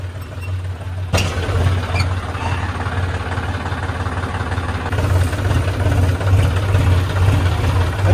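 A John Deere 5050D tractor engine gives a steady, low rumble throughout, droning at an even idle with a slight knock, close by and continuous.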